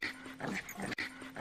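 Cartoon dogs whimper and yip in short, repeated nasal cries, close and fairly quiet, in two matching bursts.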